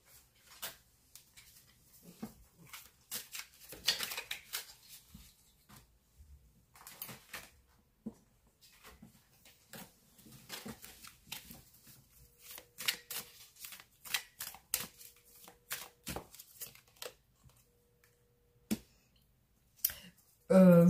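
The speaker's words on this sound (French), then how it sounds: "est-ce que je peux vous faire un dernier tirage ?" Tarot cards are shuffled for a final draw, producing close bursts of riffling and flicking that come in several rounds separated by short pauses, with scattered light clicks and taps.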